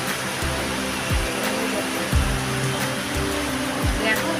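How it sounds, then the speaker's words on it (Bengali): Rain falls in a steady, dense hiss outdoors, constant and even throughout, with low engine-like swells passing underneath and someone speaking briefly. "এই বৃষ্টি দরকার, দেখেছো কেমন করছে দেখো।"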